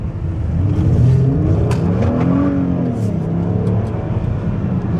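A 2012 Ford Fusion accelerating, its engine drone rising steadily and loud from start to finish, with light cabin noise and no clear talk over it.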